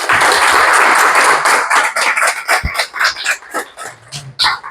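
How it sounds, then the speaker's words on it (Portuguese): Applause rises from an audience in a Bible study class for presbyter training, a dense loud burst of clapping that thins into scattered claps, with a brief voice toward the end. "Pode aplaudir Jesus."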